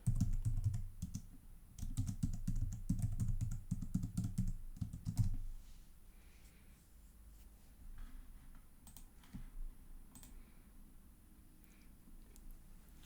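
A username and password are typed on a computer keyboard. A dense, rapid run of close keystrokes over a low hum gives way to scattered, fainter taps. No one speaks.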